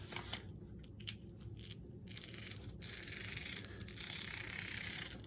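Scissors snip through a single layer of kite fabric in a quiet room, giving a run of short crisp cuts and crackles that build into a steadier close-up rasp toward the end.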